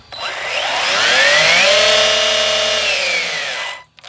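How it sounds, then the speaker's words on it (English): An Arrma Senton 3S RC car's wheels being blown clear of dirt, heard as a close, loud whining motor that spins up, holds a droning pitch for a few seconds, then winds down and cuts off. "We'll go ahead and blow the wheels out and give this another shot."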